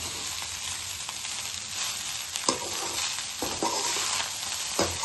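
Egg fried rice is stirred and tossed in a hot pan with fried egg added, giving a continuous close sizzle broken by several sharp scraping stir strokes.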